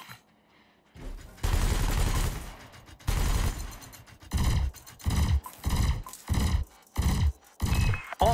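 Repeated bursts of weapon fire in a video-game combat evaluation as a pilot shoots at canisters, loud broadband bursts in an uneven rhythm after a brief quiet start, with no talk over them.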